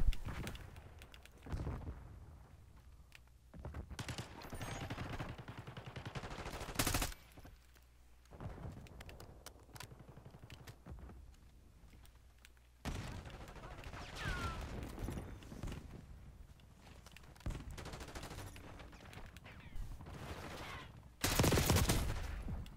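Rapid automatic gunfire in the Black Ops 6 video game crackles in repeated bursts, some loud and sharp, others quieter, with keyboard clicks in between.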